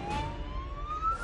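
A fire engine siren wails with a steady rising tone while the truck forces its way along a narrow, congested street lined with illegally parked cars, with road noise beneath it.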